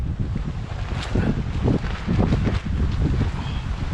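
Strong wind buffeting a tent at a night-time wild camp on the North Downs Way near Farnham, a constant loud roar with deep rumbling gusts battering close to the microphone.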